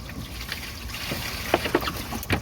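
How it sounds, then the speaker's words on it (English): Water is poured into the cowl drain of a Ford F-150 while diagnosing a right front floor leak, giving a soft close trickle with a few sharp splashing spurts near the end. "we're going to get some water and run some water through there. All right, here comes the water."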